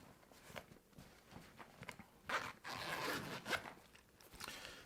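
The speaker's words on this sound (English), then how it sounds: "There's a zipper pocket here with a little Velcro divider" Several quick rasping pulls of a zipper on a fishing tackle bag side pocket, short bursts with pauses between, close by and fairly loud, with faint handling noise around them.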